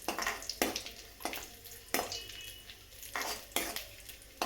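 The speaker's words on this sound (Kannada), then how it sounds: "ಈಗ ಗೋಡಂಬಿ ದ್ರಾಕ್ಷಿ 2 ಕೆಂಪಗಾಗೋ ಮಟ್ಟ ಒಟ್ಟಿಗೆ ಹುರ್ಕೊಳ್ಳೋಣ." Cashews and raisins roasting in ghee in a pan for a vermicelli payasa, with repeated metal spoon scrapes and clinks against the pan over a soft frying sizzle, fairly quiet and close, no talk.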